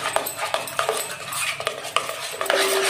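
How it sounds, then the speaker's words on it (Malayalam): A ripened jackfruit mixture with salt being stirred and mashed to break up lumps, with a steady run of close scraping and clinking of a utensil against the pot. "നമ്മളിതൊന്ന് നല്ലപോലെ മിക്സ് ചെയ്ത് കൊടുക്കാണ് കേട്ടോ കട്ടയൊക്കെ ഉടച്ച് അടിപൊളിയായിട്ട് നമുക്കിതൊന്ന് മിക്സ് ചെയ്തെടുക്കാം"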